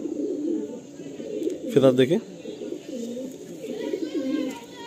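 Pigeons coo in repeated low, throaty phrases close by in a sale setting in Kolkata, with someone speaking over them.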